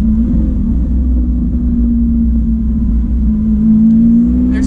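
A Lamborghini Aventador S Roadster's engine drones loud and close with a steady deep rumble, its pitch dipping then climbing again near the end.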